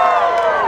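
A crowd at a New Year street party in Ottawa cheers and whoops for a contestant named Luis, a brief burst of voices close by with no clear separate claps.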